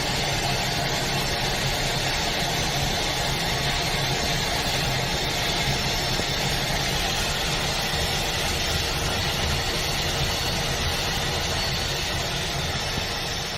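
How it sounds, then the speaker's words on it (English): An Airbus A320 jet engine starting cold at minus 28 degrees Celsius gives a steady, loud broadband roar and whine that holds constant throughout, with no talking. "This is what a cold engine start looks like on an Airbus A320 at minus 28 degrees Celsius"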